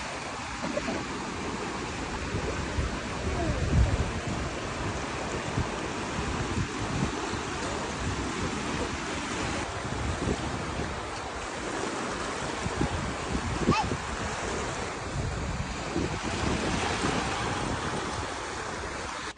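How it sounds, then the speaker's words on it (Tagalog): Sea waves wash continuously onto the shore, a broad steady roar with gentle swells and no voices. "baka miss nyo na ang tunog ng dagat."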